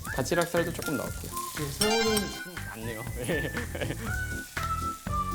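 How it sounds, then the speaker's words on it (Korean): Peeled, cleaned shrimp meat sizzles in a pan of melted butter with a steady crackling hiss throughout, while a voice talks over it and background music plays. "머리와 껍질을 떼고 손질해둔 새우살은 버터를 녹인 팬에 구워줍니다."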